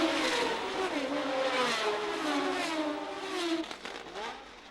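Formula One race cars of 1971 screaming uphill toward the casino at Monte Carlo, high engine whines sweeping and shifting pitch as the pack passes close, loud and continuous, fading slightly at the end.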